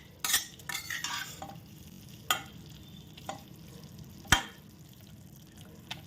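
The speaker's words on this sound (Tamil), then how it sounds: "பொடியை சேர்த்ததுக்கப்புறமா நல்லா ஒரு தடவை கலந்து விட்டுட்டு ஸ்டவ் ஆஃப் பண்ணிக்கலாம்" A spoon stirs bitter gourd pickle with ground spice powder in a pan, a few scraping strokes and sharp clinks against the metal over a faint low sizzle, close and quiet.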